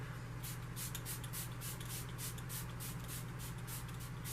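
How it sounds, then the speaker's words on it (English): Repeated quick hissing bursts of a fine primer water mist sprayed onto a face, pumped in a steady rhythm over a low constant hum, close and fairly soft. "I'm just going to spray this all over my face."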